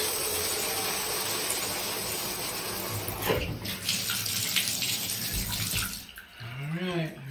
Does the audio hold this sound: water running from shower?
yes